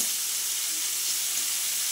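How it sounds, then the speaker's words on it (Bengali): Shrimp frying in a little oil over high heat in a home kitchen, a steady close sizzle and hiss running unbroken for the whole two seconds, with no voices. "চিংড়ি মাছটা সবসময় একটু তেল কম দিয়ে একটু জোর বাড়িয়ে ভাজলে ভালো হয়"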